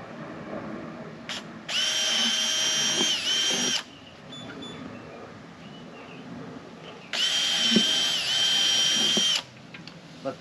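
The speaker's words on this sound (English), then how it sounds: "so I'm gonna go ahead and drill these two holes." Power drill boring holes for homemade motorcycle saddlebag mounts, two separate high whining bursts of about two seconds each, separated by a quieter gap with faint handling noises.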